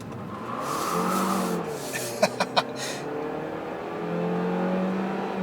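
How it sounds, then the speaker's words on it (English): Front tires of a 2017 Chevrolet Cruze Hatch RS peel out during a hard launch with traction control off, engine revving while two or three short tire chirps stand out mid-clip. "I got the front tires to peel out there a little bit by turning off the traction control, taking it left and flooring it."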